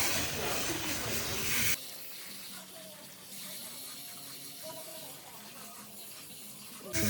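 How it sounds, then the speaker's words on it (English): Running water from a salon sink rinses hair color out during a Matrix SoColor Sync root blend, a steady broad hiss that drops softer after the first couple of seconds and continues evenly. "And start rinsing the front."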